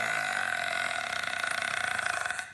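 A woman's long, drawn-out burp rumbles steadily and close for most of the stretch, fading at the very end, with no talking over it.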